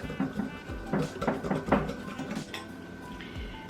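Chaffle batter of fine almond flour is stirred in a bowl, with repeated close clinks and scrapes of a utensil against the dish in an uneven rhythm.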